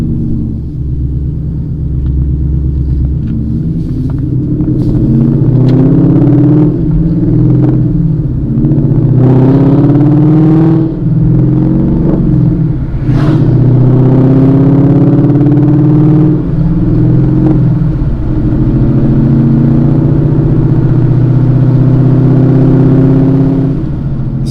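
Coyote-powered 2016 Mustang GT with a swapped T56 Magnum XL gearbox driving on the road, heard from inside the car. A loud, deep engine rumble rises and falls through repeated revs and gear changes, then settles into a steady cruise.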